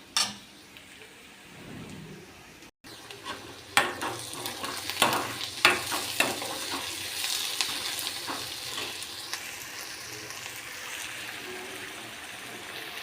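Vegetables fry and get stirred in a pan at home, a steady close sizzle broken by repeated scraping and clinking strokes of a spoon against the pan, with no talk.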